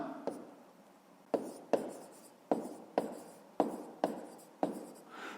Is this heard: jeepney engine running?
no